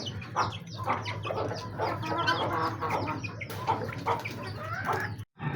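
Desi hens cluck and chatter close by, several birds overlapping in a busy farmyard, with occasional sharper squawks.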